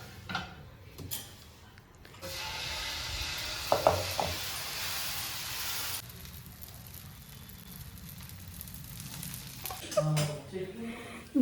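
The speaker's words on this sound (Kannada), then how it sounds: "ಹಿಂಗೆ ಎಣ್ಣೆ ಹಾಕಿ ಒಂಚೂರು ಈರುಳ್ಳಿ ಹಾಕಿ ಉಜ್ಜಿಬಿಟ್ಟು ದೋಸೆ ಹಾಕಿದ್ರೆ" Dosa batter sizzles on an oiled pan rubbed with onion, a steady frying hiss with occasional clinks of utensils while someone talks over it.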